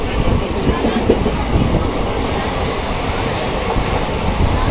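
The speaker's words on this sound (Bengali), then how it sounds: "নয়টা একচল্লিশে আমাদের ট্রেন ছেড়ে দিয়েছে আর আমরা এখন স্লিপারে আছি" An overnight sleeper train rolls along in darkness, with a loud, steady rumble and faint clickety-clack heard from inside the carriage, constant throughout.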